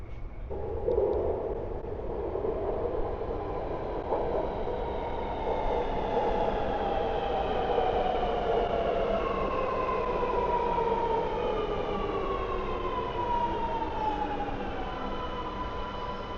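A train rolls into a station platform in Sydney with a long rumble and high, drawn-out squeals of braking wheels that slowly slide downward in pitch.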